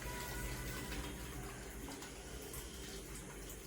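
Water runs steadily for several seconds onto rice set aside to soak for mushroom biryani, a continuous close splashing rush with no voices.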